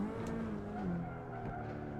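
A RenaultSport Megane 275 Trophy R driven hard at the Nürburgring, its engine droning steadily close by while the tyres squeal in a brief rising whine partway through.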